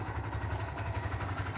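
A motorcycle engine idling after a carburetor and valve clearance tune-up, a close, steady rapid putter with a faint clatter on top.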